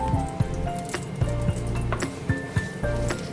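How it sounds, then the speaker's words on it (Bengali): Breadcrumb-coated chops shallow frying in oil, a soft sizzle broken by wet squishy pops and tonal clinks, close and moderately loud with no talking. "আই থিঙ্ক আমার চপগুলো ভাজতে 5 থেকে 7 মিনিটের বেশি লাগেনি।"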